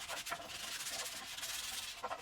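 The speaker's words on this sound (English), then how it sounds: "I can use some sandpaper to remove any sharp edges and corners." Sandpaper is rubbed by hand along the edges of cut wooden stool pieces, giving a close, steady scratchy rasp with short repeated strokes and no talking.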